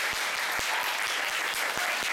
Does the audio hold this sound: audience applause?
yes